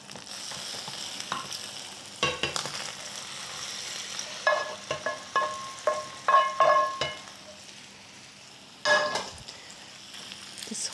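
Vegetables sizzle and crackle in a hot frying pan, with repeated clanks and scrapes of stirring over a steady frying hiss.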